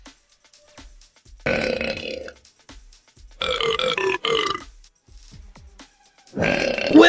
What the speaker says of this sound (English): Will you quit burping?